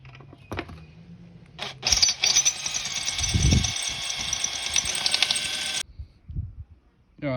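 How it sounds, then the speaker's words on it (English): A drill bores out the rivets on the muffler end cap of a KTM 390 Adventure, first with brief taps, then a sustained loud whirring grind for about four seconds that stops abruptly. "I'm going to start drilling out these rivets here"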